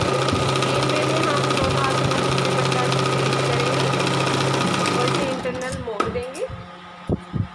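A sewing machine stitches a cotton salwar in a steady rapid mechanical whir for about five seconds, then stops, leaving a few faint clicks and handling sounds.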